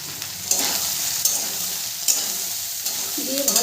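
Soybean chunks and potato fry in a pan with turmeric and salt, giving a steady close sizzle broken by a few sharp scrapes of stirring, with no talk.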